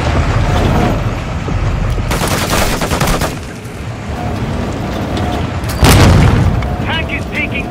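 C4 charges blow up against a tank in Call of Duty Modern Warfare 2, loud booming blasts with gunfire and rumble, voices talking over the combat.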